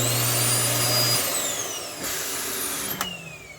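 A built-in central vacuum in a 2018 Keystone Hideout 22KBSWE travel trailer runs with a loud, steady high-pitched whine and motor drone, shifting pitch as it winds down, with no talking.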